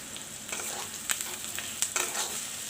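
Onions sizzle in a pan as they brown for a chicken and potato curry. The frying hiss is soft and steady, with a few brief crackles and spits.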